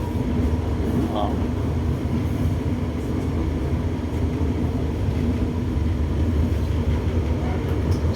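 Steady rumbling roar of an LRT Line 1 light rail train riding on rails, continuous and loud throughout, with faint voices in the background.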